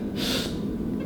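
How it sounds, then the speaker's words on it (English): A short, sharp breath drawn in through the nose before a bench press, a single quick inhale lasting well under a second, close and fairly quiet. "So I'm going to take a little breath"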